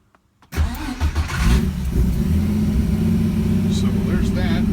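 Ford 200 inline-six with Fitech fuel injection cranking on the starter, then catching and settling into a loud, steady, close idle.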